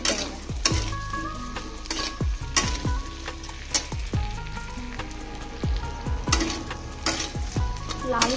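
Pieces of taro (kochu) fry in a pan, a continuous sizzle broken by regular spatula scrapes and taps against the metal every second or so.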